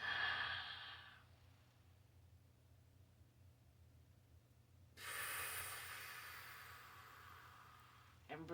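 Slow, airy breathing during a relaxation breathing exercise, a long breath with a quiet pause before another soft inhale, heard close and gentle.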